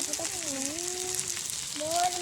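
Pasta with spices sizzles and fries steadily in a pan over heat, a constant crackling hiss beneath a voice speaking over it.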